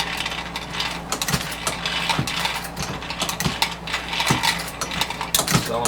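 Bullets clatter and drop in a steady series of sharp metallic clicks as a bullet feeder on a Lee APP press feeds them into a slider, the mechanism whirring continuously underneath with no talking.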